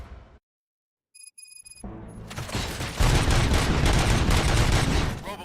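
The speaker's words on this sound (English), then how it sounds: "Gunshots?" Loud, dense gunfire from the video game RoboCop: Rogue City erupts after a brief silence and some electronic beeps, building into a sustained barrage of rapid shots and booms.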